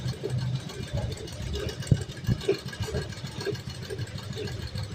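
A sewing machine stitches straight seams while its hand wheel is turned forward, making a low, soft, rhythmic thumping and whirring up close, with quiet talking in the background.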